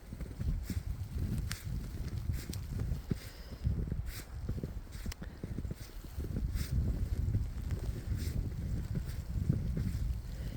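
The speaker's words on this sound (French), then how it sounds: "C'est venteux." Wind gusts roar and rumble at a microphone outdoors, with a steady low buffeting and occasional soft clicks and crackles, and no voices.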